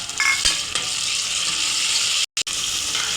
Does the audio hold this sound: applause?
no